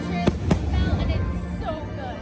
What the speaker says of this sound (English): I love the fireworks at the end.